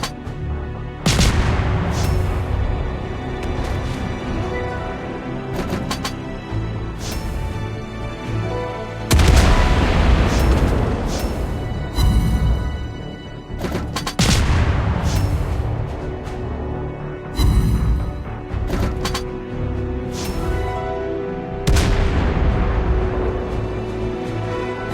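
Naval battle in World of Warships Blitz, with repeated heavy ship cannon salvos and booming explosions striking at irregular intervals, each loud blast trailing off into a rumbling decay, with no voices.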